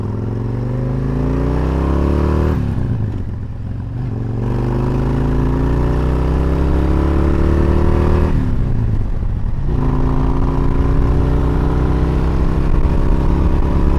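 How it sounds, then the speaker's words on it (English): A Kawasaki Vulcan 1600 cruiser with a freshly rebuilt clutch, heard while riding: a loud, steady engine drone rising through the gears, with two brief dips as the rider shifts, close and continuous without talk. "Taking a maiden voyage on my Kawasaki 1600"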